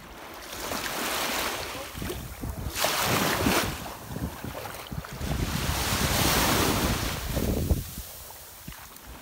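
Mediterranean Sea waves wash onto a beach in the Camargue, with repeated surges and a loud, close rush of surf. Gusty wind buffets the microphone throughout.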